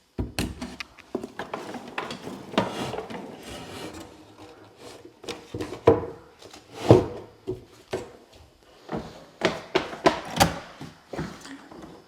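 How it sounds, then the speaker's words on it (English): A wooden door on newly laid lumber flooring opens with a run of scraping, rubbing creaks and knocks, some loud and close, with no talk. "Let's see how the door opens."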